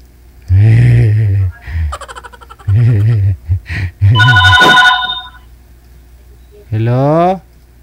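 A telephone rings in short repeated bursts, its bright electronic trill sounding twice close and loud, while people talk in between.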